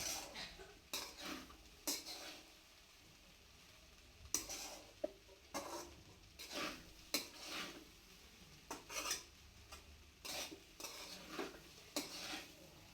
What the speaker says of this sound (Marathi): आता सगळा मिक्स करून घेऊ आपण त्याला